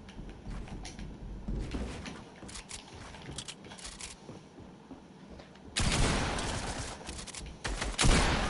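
Gunfire in a PS4 shooter game, bursts of rapid shots with a louder sustained volley near the end, fairly close, with no speech.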